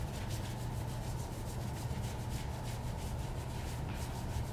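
Hands rub along an arm in slow, repeated self-comfort swipes, giving a soft, quiet, rhythmic brushing of skin and fabric with no talking.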